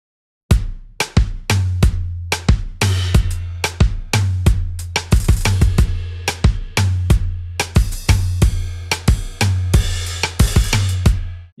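A programmed kizomba drum beat built from Logic's French Connection kit, with a steady looping pattern of punchy kicks, snappy hits and bright percussion, loud and close with no talk over it.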